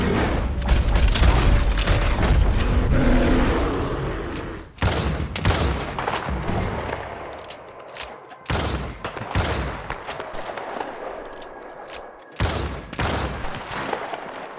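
Rapid bursts of video-game gunfire aimed at a bear, loud and close, with a dense opening barrage followed by separate sharp shots and booming reports at irregular intervals, and no talking.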